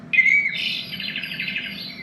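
Bright electronic birdsong plays from a JALL K8 sunrise alarm clock, a sharp whistled chirp followed by a rapid trilling warble lasting about two seconds, clear and close over a quiet low hum.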